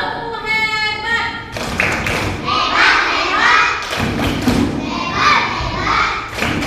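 Schoolchildren clap hands together in a classroom clap chant, a burst of rhythmic claps and thumps with shouting voices, loud and close, while an adult voice leads over them.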